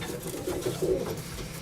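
Healthy young pigeons coo in soft, low, throaty murmurs, a few gentle rolling calls close by against a quiet loft background.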